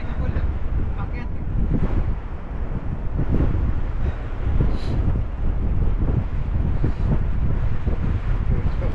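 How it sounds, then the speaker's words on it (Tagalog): Strong wind buffeting a microphone outdoors during a holiday ride and jump session, a constant loud rumbling roar throughout with people talking underneath. "Mahangin eh. Mahangin."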